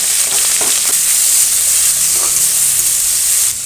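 Prawns frying in white oil in a wok, a steady close sizzle and hiss that runs unbroken throughout with faint stirring scrapes, then drops slightly at the end, with no talk.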